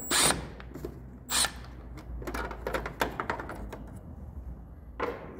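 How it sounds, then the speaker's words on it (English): The electrical cover comes off a mini-split indoor unit with a handful of sharp plastic snaps and clicks, then lighter taps and rattles, close and loud with no talking. "next step is we've got to take the cover off where the electrical is"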